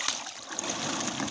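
Fish being rinsed in water, a continuous close splashing and trickling wash with a few brighter splatters.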